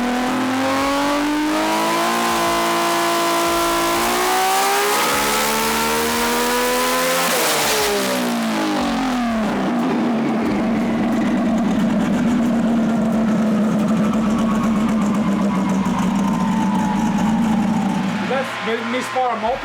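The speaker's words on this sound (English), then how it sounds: "Misfire multiple cylinders now?" A car engine misfiring on multiple cylinders is revved hard, rising and falling in pitch before settling into a rough, uneven drone, loud and close for the full stretch.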